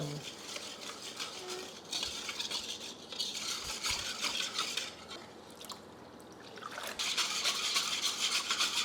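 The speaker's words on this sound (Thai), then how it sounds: "คนให้แป้งกับน้ำตาลพอเข้ากันก่อน" A spoon or whisk scrapes and swishes steadily through flour and sugar in a bowl, a continuous close stirring sound with brief pauses.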